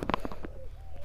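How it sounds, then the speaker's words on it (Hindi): Birds call in an ashram garden, with a few short cooing and chirping notes near the start and a thin whistled tone later, all set over low steady background hum. "आप लोगों को यहाँ पर बहुत ज़्यादा पक्षियों की आवाज़ सुनाई देगी"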